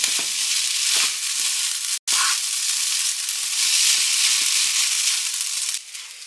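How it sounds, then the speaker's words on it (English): Scrambled egg sizzles loudly and steadily in a hot pan with ramen noodles, with a few scrapes of stirring and a brief break in the hiss. "You want to scramble this egg all around."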